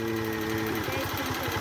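A motorcycle engine idles steadily out on a dirt trail, its even rhythmic thrum continuous and fairly close, with no talking over it.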